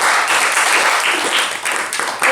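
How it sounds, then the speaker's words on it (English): A studio audience at the finale of a Survivor-style competition show applauds, a loud, dense, steady round of clapping and cheering that fills the whole short stretch with no talk over it. "Round of applause."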